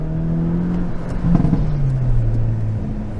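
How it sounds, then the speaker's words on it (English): A 2022 Hyundai Elantra N on a wet autocross track blips its engine in first gear with automatic rev matching, a loud close revving engine note that rises, dips and holds steady over a few seconds, without talking. "Auto rev matching first."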